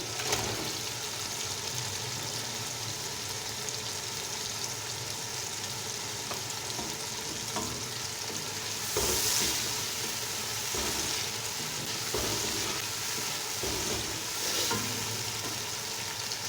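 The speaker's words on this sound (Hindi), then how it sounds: "अब हम इसमें डाल देते हैं फ्राई चिकन" Fried chicken added to masala sizzling in a pot for chicken pulao, a constant close sizzle with scraping stirs and brief louder bursts of crackle.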